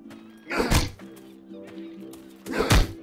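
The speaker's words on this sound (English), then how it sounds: "Break my block with kick" Two heavy thuds from a kick breaking a sword block in Chivalry: Medieval Warfare, spaced about two seconds apart, each a dull whack rising over a steady low game hum.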